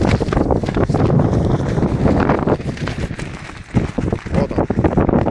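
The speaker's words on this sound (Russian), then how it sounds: "Штормовой ветер." Storm wind buffets a camping tent outdoors, a loud continuous roar with gusting flaps and rattles throughout and a brief lull near the middle.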